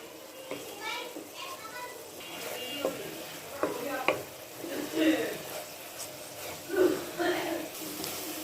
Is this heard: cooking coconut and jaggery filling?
yes